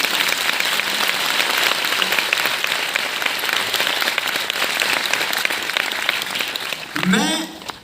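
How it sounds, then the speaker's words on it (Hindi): Sustained audience applause at a Hindi-language debate event featuring a guest speaker, dense and steady from start to end, with a brief voice or microphone handling near the close. "एक बार मालिनी जी के सम्मान में तालियां बजाएं आप लोग"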